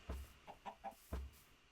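A chicken in the video game Minecraft clucks in a few short, quiet bursts spaced unevenly apart, faint against a low background hum.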